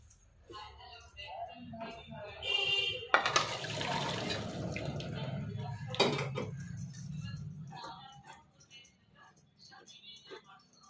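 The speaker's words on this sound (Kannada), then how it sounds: "ಈಗ ನಾನು ನೀರು ಬಸ್ತಿ ತೊಗೊತಿದ್ದೀನಿ." Water pours and splashes as a pot of boiled cauliflower is tipped to drain, with metal clinks and scraping around it, close by and fairly loud.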